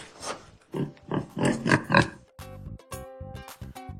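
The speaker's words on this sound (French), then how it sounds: "c'est un cochon qui grogne." Pig grunting in a children's sound-guessing game, a series of close, throaty oinks and snorts in short bursts, then several sharper squealing grunts toward the end.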